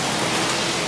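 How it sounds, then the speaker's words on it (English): Heavy rain pours during a storm, a dense, loud, unbroken hiss of downpour filling the whole moment with no voices. "wait till the rain stop a little bit because it's storming"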